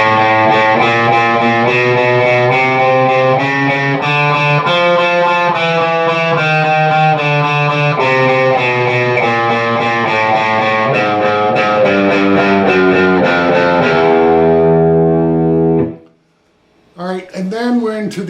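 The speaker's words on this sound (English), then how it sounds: "So the interlude has this walk up, walk down section that's very memorable." Distorted electric guitar slowly playing the walk-up and walk-down interlude of a song, sustained overdriven notes stepping up and down in a steady phrase, loud and close, followed by a brief pause and a few more notes.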